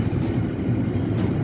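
A DB Cargo freight train and a Vectron locomotive pass through Gemünden am Main station in Bavaria, making a loud, close, steady rumble of wheels and wagons throughout.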